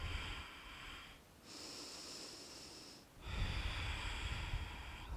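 Slow yoga breathing close to the mic, two long airy exhales through the nose with a short quiet pause between them, no talking.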